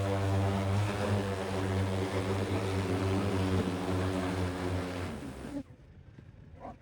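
Drones on an aerial survey job, a steady close propeller buzz with stacked tonal harmonics holding for over five seconds, then cutting off abruptly to near quiet.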